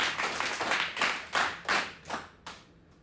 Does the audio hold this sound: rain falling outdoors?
no